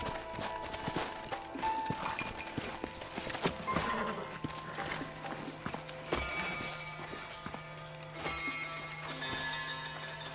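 Hooves clip-clopping at a trot with a whinny in Red Dead Redemption 2, layered over a constant background soundtrack, moderately loud and continuous.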